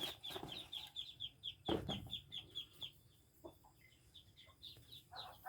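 Chickens clucking in a rural Thai yard, a steady run of short, bright calls repeating in quick succession with a louder thump partway through and softer clucks trailing off afterward.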